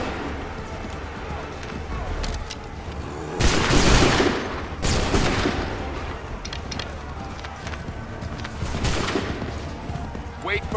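Musket volleys in an Assassin's Creed 3 battle: dense bursts of massed gunfire crackle loudly around the 3-4 and 9 second marks over a constant battlefield din, with shouted commands heard throughout.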